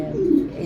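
An Egyptian blue velvet pigeon gives a single short, close, throaty coo, low and rounded, rising and falling within a fraction of a second with no talking.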